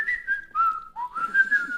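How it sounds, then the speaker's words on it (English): A woman whistles a short, clear melody of several sliding notes, close and prominent, with faint background noise behind it. "You hear her whistle."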